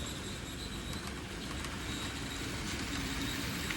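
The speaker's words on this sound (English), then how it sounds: "Trains run through all 3 crossings. So here I'll get you another little action shot." A model railroad train runs steadily through road crossings on a layout, giving a continuous soft rolling rumble with faint wheel squeal and clicks, no voices.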